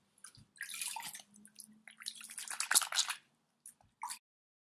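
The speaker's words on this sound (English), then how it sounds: "sprinkle some soapy water on the picture" Soapy water sprinkled onto wool felt for felt making, heard as close, wet, irregular splashes and drips in short bursts with quiet pauses between.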